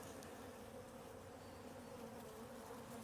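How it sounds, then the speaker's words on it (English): Steady, dense buzzing of many honey bees at a hive in March, a continuous low hum with no breaks, fairly quiet and even throughout. "Bees look healthy."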